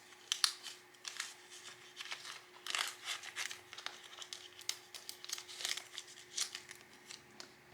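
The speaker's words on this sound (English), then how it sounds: "so I'm going to put these 2 5s into the 10 spot" Cash bills crinkle and rustle as they are slipped into a paper envelope, soft close handling noises in irregular bursts with no voices.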